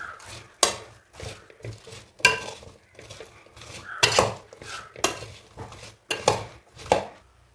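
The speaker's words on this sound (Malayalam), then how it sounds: "ഇനി ഇതെല്ലാം ചേർത്ത് നന്നായിട്ട് യോജിപ്പിച്ചെടുക്കാം" Vegetables for aviyal are mixed with turmeric, chili powder and salt, a utensil scraping and clinking against the vessel in about eight rhythmic bursts with quiet pauses between, and no talking.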